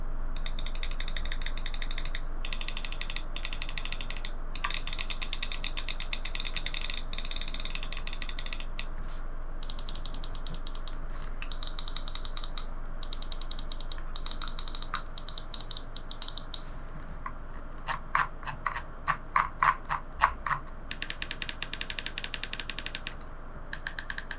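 A SteelSeries Sensei TEN gaming mouse scroll wheel gives fast, rattling mechanical clicks close up, sounding like a continuous ratchet that breaks into separate sharper clicks near the end.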